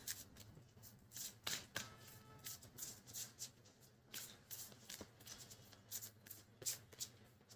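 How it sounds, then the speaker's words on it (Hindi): Tarot cards are drawn and handled at a table, giving repeated crisp shuffling riffles and soft taps in irregular bursts, close and fairly quiet, with no talking. "पहले मैं सारे कार्ड्स निकाल लेती हूँ"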